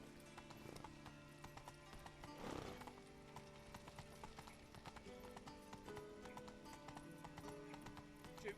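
Roach, a horse in the video game The Witcher 3, clip-clops along in a steady rhythm of hoofbeats, with a brief whinny near the start, all fairly quiet.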